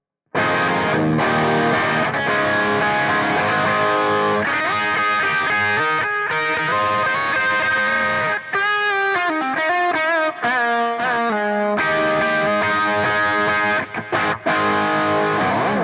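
Overdriven electric guitar solo through a Headrush MX5 with washy reverb and echoing delay, fast melodic runs and sustained bends, loud and continuous.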